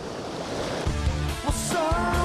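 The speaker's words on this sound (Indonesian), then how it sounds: "Tepat di depan Pantai Wijaya Kusuma adalah laut lepas, yakni Samudra Hindia, sehingga gelombang pasangnya cukup tinggi" Indian Ocean surf rolling in off Wijaya Kusuma beach on Nusakambangan island, a steady loud wash of breaking waves with wind rumble throughout.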